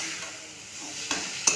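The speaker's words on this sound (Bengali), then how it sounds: "জিরে ধনে গুঁড়ো, সামান্য একটু আদা বাটা, সামান্য একটু জল দিয়ে মশলাটা কষিয়ে নেব।" Spices, cumin and coriander powder with a little ginger paste and water, are sautéed with papaya and potato in a pan, giving a soft, faint sizzle with a couple of sharp utensil clinks near the end.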